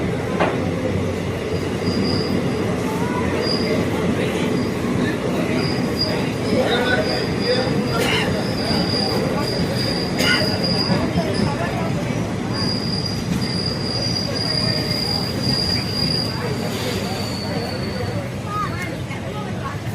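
A train sits idling at a station in Tamil Nadu, India, with a steady rumble, faint high squeals from wheels or brakes, and people talking in the background.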